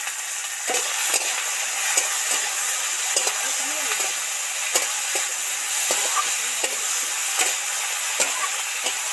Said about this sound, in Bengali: মধ্যে একটু নুন ছড়া দেব তাড়াতাড়ি সবজিগুলো ভাজা হয়ে যাবে